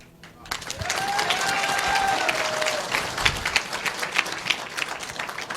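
Audience applause after a speaker's talk on leadership, a broad wash of clapping that swells quickly and holds steady, with a few whistles and faint voices in the crowd.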